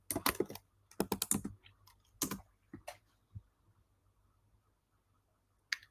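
Close computer keyboard typing comes in quick bursts of clicks with short pauses, then stops, leaving quiet with one last tap.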